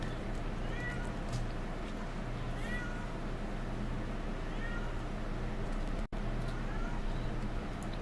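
A cat meows several times at a moderate distance. The meows are thin and drawn out over a steady low hum, in a room where someone is shaping clay for Halloween crafts.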